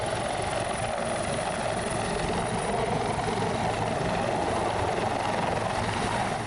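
An Indonesian Army (TNI AD) helicopter evacuating residents from Kiwirok district, Papua, gives off a steady, loud, continuous rotor and engine roar with no pauses and no voices.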